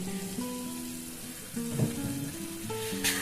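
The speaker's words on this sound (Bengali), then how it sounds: "সয়া সসটা দিয়ে দিয়েছি আর টমেটো সসটা দিয়ে এখন এবারে একটু ভেজে নেব" Soy chunks sizzling in a pan after soy sauce and tomato sauce go in for chilli soybean, a steady close fry with a few brief stirring clatters and no talk.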